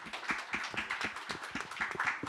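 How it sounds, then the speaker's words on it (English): A small audience at a panel event claps for the panelists and attendees, an intimate patter of individual hand claps with distinct, uneven strikes, fairly quiet and close. "a round of applause, not only to our esteemed panelists,"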